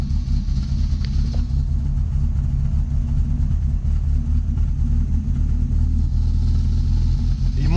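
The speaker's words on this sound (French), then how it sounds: "Donc là le ralenti il se cale à 1000." A car with a swapped engine idles unevenly at around 1000 rpm, giving a close, continuous low rumble with slight wavering in its drone and no clear pauses.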